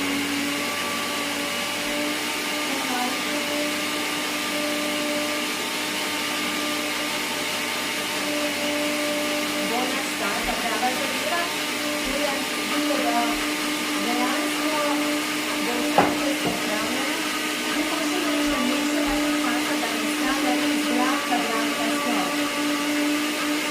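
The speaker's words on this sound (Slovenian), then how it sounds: "temeljito zmeljemo in damo v mešalnik skupaj" A kitchen blender grinds an aloe vera mixture with a steady, whirring motor roar that holds evenly for the whole stretch, close and moderately loud, with no voices.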